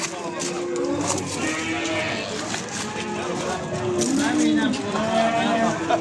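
Cattle low and moo repeatedly at a busy livestock market in Beylagan, Azerbaijan, where young bull calves are for sale; several drawn-out calls overlap steady crowd chatter and people talking nearby.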